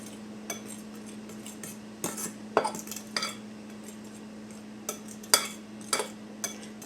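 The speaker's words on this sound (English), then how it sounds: "I'm just going to take a fork and get that started mixing together." A fork whisks unsweetened cocoa into cheesecake batter in a bowl, giving irregular clinks and scrapes against the dish over a steady background hum, close up and with no talking.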